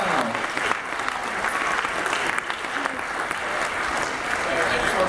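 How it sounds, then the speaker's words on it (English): Audience at a Manchester comic convention panel applauds Andrew Lee Potts of the series Wireless, a steady, full wash of clapping from a large crowd that fills the whole stretch at even loudness. "Please give it up for Andrew Lee Potts"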